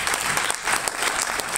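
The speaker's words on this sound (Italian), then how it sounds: "faccio un bel applauso." Live concert audience breaking into steady, dense applause that fills the room, loud and continuous throughout, with no voices standing out.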